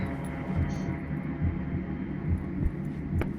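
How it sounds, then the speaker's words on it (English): A heavy, throbbing heartbeat from the horror video game Song of Horror pulses steadily beneath a constant low hum, with a faint high tone briefly heard. "Why is my heart pounding?"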